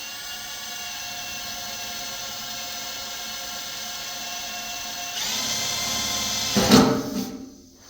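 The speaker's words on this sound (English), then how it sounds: "just go ahead and drill a pilot hole in here" A power drill bores a pilot hole into an aluminum pontoon boat, a close, steady high whine that swells louder and rougher near the end as the bit bites through the metal.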